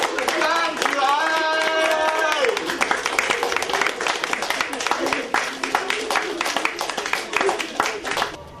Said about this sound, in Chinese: 本地谐星 MC King 蓝清喜今天上午在一片掌声中谢幕